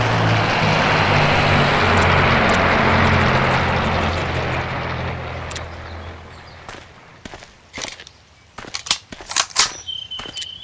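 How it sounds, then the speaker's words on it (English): Nazi bomber aircraft drone overhead in the video game Mortyr III, a loud roaring engine rumble that slowly fades over several seconds before giving way to scattered sharp clicks and footsteps. "Nazi bombers!"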